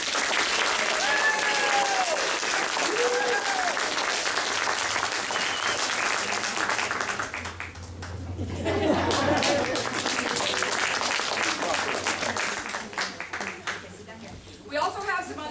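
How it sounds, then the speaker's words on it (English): Audience applause and crowd noise at a school stage production of Willy Wonka Jr., following a golden ticket winner from the cast: sustained loud clapping for about eight seconds, a brief lull, then a second swell of applause with voices mixed in. "So I'd like you to give her a round of applause, please."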